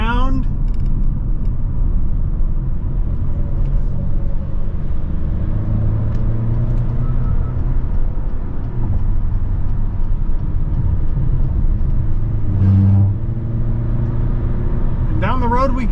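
A 2024 Acura RDX Tech AWD SUV accelerating down a road, with a steady low engine and road rumble from inside the cabin, rising gently as it picks up speed, under occasional talk.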